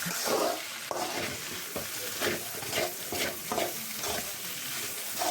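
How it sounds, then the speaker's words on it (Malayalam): A spoon stirs a dried fish dish in a hot pan, producing repeated scraping and sizzling strokes in a steady rhythm, close and fairly loud. "ഇതേപോലെ തന്നെ നല്ല രീതിക്ക് ഇളക്കിയെടുക്കുക"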